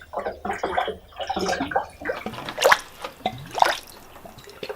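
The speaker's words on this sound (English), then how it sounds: "If you pour it just like this, you see it glugs." Coolant glugging in irregular pulses as it is poured from a tipped container into the large radiator of a Ford F350 V8 turbo truck, with close, gurgling liquid bursts and splashes.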